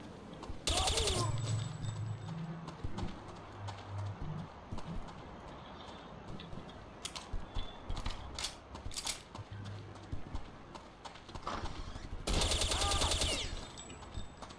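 Machine gun fire in the video game Counter-Strike: Condition Zero comes in loud rapid bursts at the start and near the end, with scattered shots, clanks and mechanical noises in between.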